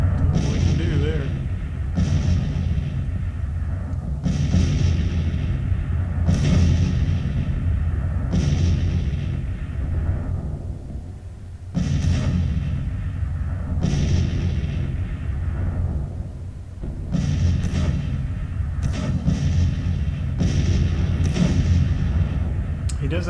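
A Civil War artillery battery in a strategy game fires a rapid series of about ten heavy booms, each rolling out into a rumbling decay, with brief lulls between volleys.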